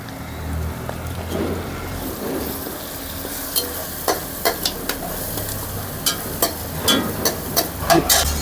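Carrot curry with turmeric stirred in a pan, soft background sizzle with a string of sharp spoon clacks and scrapes against the pan growing more frequent toward the end.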